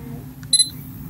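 Self-timer on a Sony A6000 camera: a faint short tick followed by a clear, bright double beep, alone over quiet room hum.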